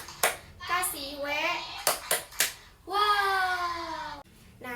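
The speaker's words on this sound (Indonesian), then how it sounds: "Gimana kalau kita tepuk wow dulu?" Schoolchildren in a classroom clap along with a teacher's 'tepuk wow' chant: a few sharp separate claps between sung, drawn-out voices chanting letters, then a long held 'wow'.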